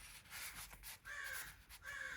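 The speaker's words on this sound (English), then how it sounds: "my crows are outside." Crows cawing outdoors, a few harsh calls in short repeated bursts over a steady background hiss, moderately distant.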